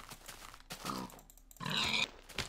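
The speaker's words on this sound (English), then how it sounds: "When pigs get hit, they like run away." A Minecraft pig grunts and oinks after being hit in the game, several short close grunts spread across a few seconds with faint game sounds between them.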